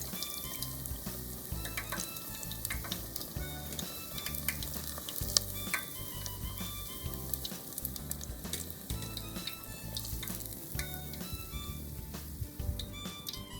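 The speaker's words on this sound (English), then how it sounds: "Fry the lotus roots in the same way." Lotus root tempura sizzles and crackles steadily in hot oil, a dense, continuous frying hiss with no talking.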